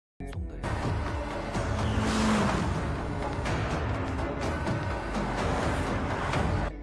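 A car speeding up to shake a tail in a film chase, engine revving hard and steadily after a sudden start, with a brief tire squeal partway through and dense road noise throughout.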